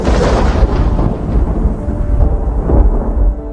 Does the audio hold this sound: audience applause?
no